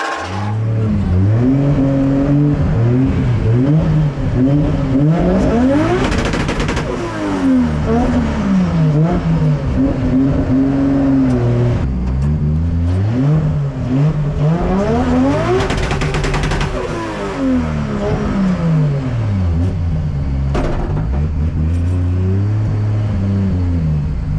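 Drift car engine at a drift competition, loud and close, rising and falling in repeated revs with sharp throttle blips, the pitch sweeping up and down several times over a steady roar.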